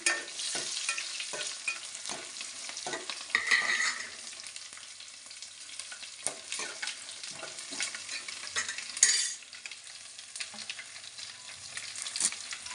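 Crackling sizzle of tempering spices and crushed small onions frying in hot oil, steady and close, with occasional stirring scrapes and brief louder pops.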